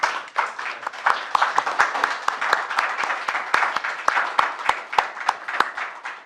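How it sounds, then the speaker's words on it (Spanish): An audience at a conference on decolonial thought and liberation theology claps steadily for about six seconds, with dense, even applause and sharp individual claps cutting through. "muchísimas gracias a Raúl, le agradecemos con un aplauso."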